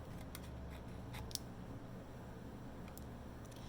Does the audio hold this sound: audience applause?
no